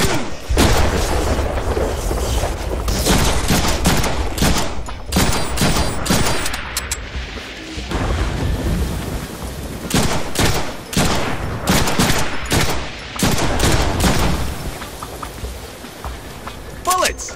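Heavy gunfire in a Deadpool video game set in Genosha, with dense bursts of rapid shots and booming blasts repeating loudly across the scene, broken by a few short lulls, with voices shouting over it.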